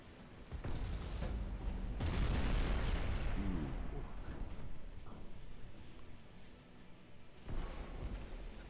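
A naval gun barrage from warships in Ultimate Admiral Dreadnoughts: heavy booming salvos with a long rumbling roar and decaying blasts, then a later shot after a lull, loud and close.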